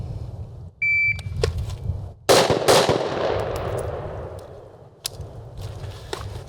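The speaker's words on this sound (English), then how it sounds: "2 rounds on the buzzer." A shot timer gives one sharp electronic beep during long-gun practice, followed about a second later by two loud, close rifle shots, then a fading echo.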